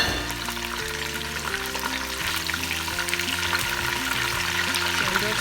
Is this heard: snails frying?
yes